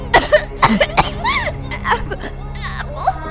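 A string of short, harsh coughs bursts out close up, several quick hacking fits in succession with strained, breathy vocal sounds between them.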